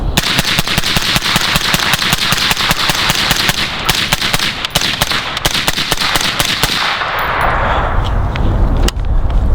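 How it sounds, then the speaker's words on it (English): A suppressed AR-15 rifle with a Geissele charging handle fires a rapid mag dump outdoors, a dense, loud stream of evenly spaced shots that stops near the end, leaving breezy ambience and a final clank. "mag dump with the Geissele"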